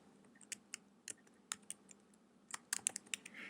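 Typing on a computer keyboard, a run of sharp, separate key clicks in uneven rhythm with a short pause mid-way, then a quicker burst, close and fairly quiet with no talk.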